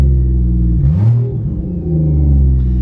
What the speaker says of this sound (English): Turbo spool sounds awesome.